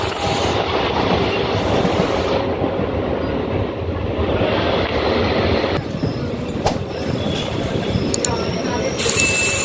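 The steady, loud rumble of a moving passenger train is heard from inside a carriage near Palta station in West Bengal, with clacking wheels and a few sharp squeals. Faint voices murmur in the background.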